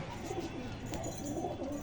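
Soft low pigeon cooing, a short murmuring call heard faintly against a quiet background, with no talking.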